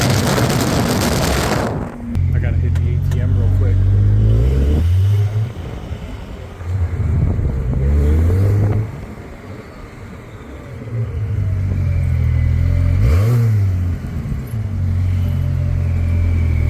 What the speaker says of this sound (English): The base model 911, but I did a Soul Performance exhaust